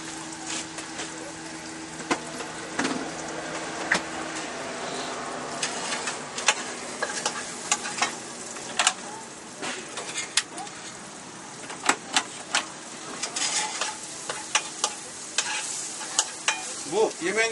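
Vegetables stir-fried quickly in a hot pan: a steady sizzle with frequent sharp clinks and scrapes of a utensil against the pan, close and fairly loud.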